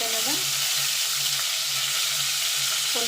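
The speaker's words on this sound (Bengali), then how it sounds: "পনিরগুলো দিয়ে খুব ভাজবো না, হালকা করে ভেজে নেব" Paneer pieces fry lightly in a pan with a strong, steady sizzle that fills the whole stretch, close and constant, with faint tonal sounds underneath.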